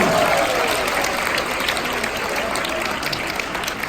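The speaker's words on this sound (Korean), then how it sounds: "지금 박수 좀 한 번 쳐주세요" A crowd at a live trot dinner show in Korea claps in a dense, steady wash of applause that fills the hall and fades gently toward the end.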